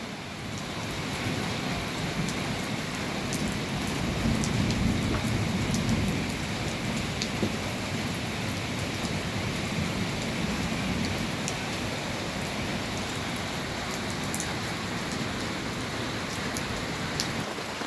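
Steady rain pours onto garden plants in Negros, a dense, even hiss of drops lasting throughout at moderate level with no voices.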